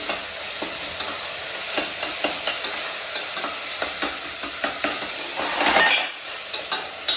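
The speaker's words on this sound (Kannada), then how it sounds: "ಒಂದು 2 ಸ್ಪೂನ್ ಅಷ್ಟು ಜಿಂಜರ್ ಗಾರ್ಲಿಕ್ ಪೇಸ್ಟ್ ಹಾಕ್ತಿದ್ದೀನಿ." Ginger garlic paste and capsicum frying in a pan for pav bhaji, with a loud steady sizzle and regular spoon taps and scrapes as it is stirred, close up and without voices.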